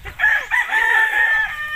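A rooster crows once near a chicken nest, a loud drawn-out cock-a-doodle-doo close by with faint farmyard sounds beneath and no speech over it.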